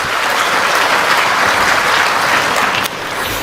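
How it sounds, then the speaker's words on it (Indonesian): A large crowd at a political speech in Indonesia breaks into loud, sustained applause, a dense wash of clapping that holds steady for several seconds. "ya boleh tepuk tangan untuk berita baik"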